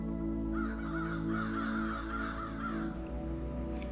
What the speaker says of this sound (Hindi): पक्षियों के छोटे छोटे बच्चे बहुत ही शोर मचाते, जिससे पूरे जंगल का माहौल खुशनुमा हो जाता।